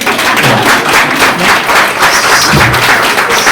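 Audience applause at a book launch, a steady wash of many hands clapping that fills the room evenly from start to finish, with a few duller thumps scattered underneath.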